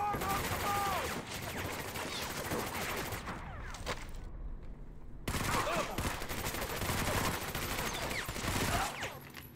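Heavy, sustained gunfire from the Medal of Honor: Vanguard video game, with rapid bursts and volleys filling most of the stretch and a brief lull near the middle before the shooting resumes loudly.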